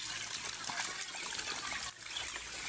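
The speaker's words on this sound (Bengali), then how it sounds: "তো ওদের জন্য একটু ঠান্ডা পানি মোটর দিয়ে নিচে পলিথিন বিছায় একটু পানি দেওয়ার ব্যবস্থা করলাম।" Cool water runs from a motor-fed pipe onto polythene spread on the ground for ducklings to bathe in, a steady close trickle and splatter with a brief dip near the end.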